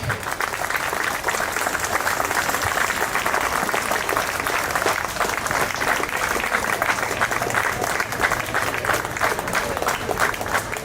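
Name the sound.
audience applause at ceremony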